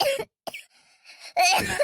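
A person with a cold coughs in a few short, harsh bursts separated by gaps, close and loud, with a final longer rough fit.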